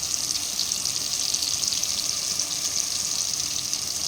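Chili powder frying in a tomato base for fish curry makes a loud, continuous sizzle that stays steady throughout, with no talking.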